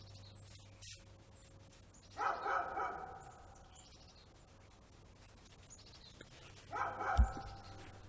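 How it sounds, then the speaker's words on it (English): Dogs bark somewhere in the distance, in two short clusters several seconds apart, faint against a quiet background with soft bird chirps. "Stay away from barking dogs."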